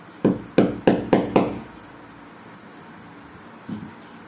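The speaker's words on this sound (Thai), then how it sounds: "ลองตอกดูเลย" Five sharp hammer blows on a nail in quick succession, then a pause and one fainter strike near the end.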